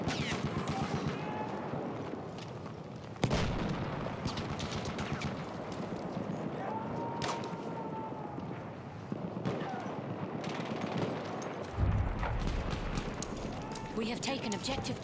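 Machine gun fire in the video game Battlefield 1, dense rattling bursts running almost continuously with sharp louder shots and explosions layered over a busy battlefield din, with voices calling out now and then.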